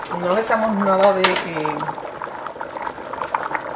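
Brown rice and quinoa boiling in a pot of water bubble steadily up close while a person talks over it at first, followed by a brief clink of cookware.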